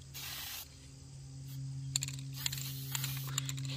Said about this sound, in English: let's see how good a six-year-old can spray paint